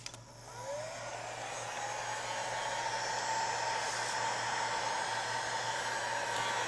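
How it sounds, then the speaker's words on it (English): A heat gun runs steadily over FriXion pen ink on paper and sapele wood, a constant airy blowing roar that starts with a brief spin-up and holds evenly throughout. "the trick that really does the magic is the heat gun for me"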